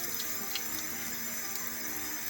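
Water runs steadily onto a Chalk Couture chalk paste remover sponge, giving a close, even hiss of flowing water with no pauses and no voices.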